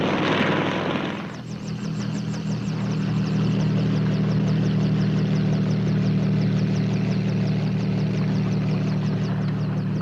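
A helicopter flies steadily overhead, its engine droning loud and continuous with a rapid rhythmic rotor chop, close and unbroken throughout, after a brief burst of noise at the start.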